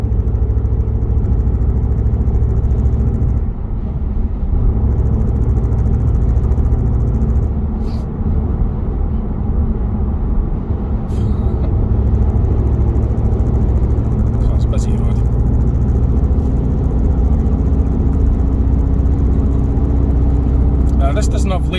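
A 2023 Skoda Octavia vRS Mk3 petrol hatchback drives on Scottish roads, its engine and road rumble a steady low drone inside the cabin, with someone talking over it throughout.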